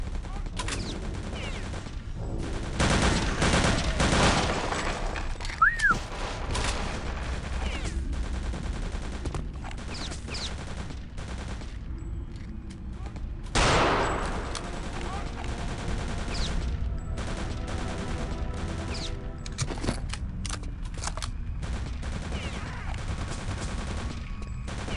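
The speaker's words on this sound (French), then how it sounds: "On dirait que ça tire de dessus." Gunfire in the video game Return to Castle Wolfenstein, set in a forest: dense, continuous volleys of shots with louder bursts, heard amid steady game noise with some faint voices.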